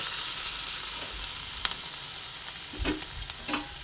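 Ginger and green chillies fry in oil in a pan, producing a loud, constant sizzle close by, with a few scraping stirs and clinks of a spatula near the end.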